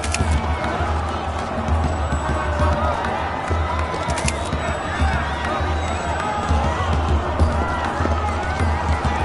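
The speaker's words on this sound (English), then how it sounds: "Let's get to the front before the crowd pushes us back." A large crowd bustles through a street during the 1979 Iranian Revolution, with a steady dense roar of many voices, scattered shouts and shuffling movement filling the whole span at a constant level.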